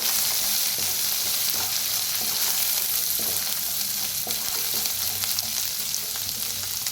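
Turmeric and coriander powder roast in a hot pan for a bitter gourd dish, giving a steady close sizzle broken by the soft scrape of stirring.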